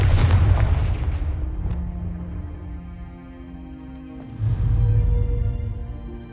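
A Confringo spell explosion in the video game Hogwarts Legacy, a loud booming blast that rumbles and fades over several seconds, followed by a second heavy thump, no speech.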